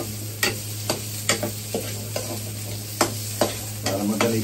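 Food frying in a pan and stirred, a steady sizzle under evenly spaced scrapes and knocks of the utensil against the pan, close and alone without talk.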